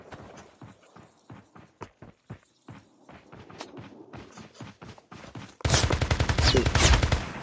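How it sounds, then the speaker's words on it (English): Gunfire in the mobile shooter Call of Duty Mobile during a ranked battle royale match: sharp single shots and short bursts at an uneven rhythm, then a dense, loud stretch of rapid fire toward the end. "I'm getting shot at."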